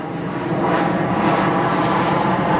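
An airplane passes overhead in steady, broadband engine roar, loud and close throughout with no talking, outdoors beside a 2013 Dodge Charger police car.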